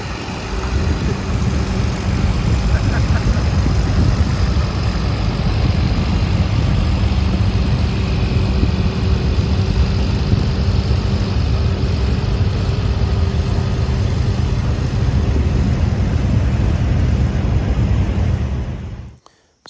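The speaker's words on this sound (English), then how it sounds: "I did drive my tractor in the parade." Tractor engine running steadily while driven in a vintage tractor parade at the Half Century of Progress show in Rantoul, Illinois, a continuous low rumble that stays even throughout before cutting off at the end.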